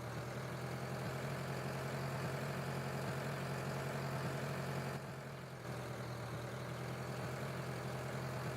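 A tractor engine in the Farming Simulator 2013 video game idles with a steady, loud, low rumble that stays constant throughout and dips briefly once, with no talk over it.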